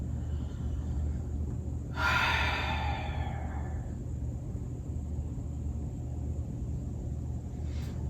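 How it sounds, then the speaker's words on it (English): A single slow, deep breath during a quiet yin yoga session, a soft breathy exhale lasting about two seconds over a steady low room hum, with a faint second breath near the end. "Take a couple of breaths."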